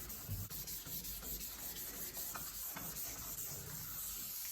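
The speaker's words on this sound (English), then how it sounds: "now you can sand all over now that you've got the runs out" Wet-or-dry sandpaper rubbing out paint runs on a custom paint job, a close, steady, rasping scrub in repeated back-and-forth strokes with a faint hiss underneath, and no voices.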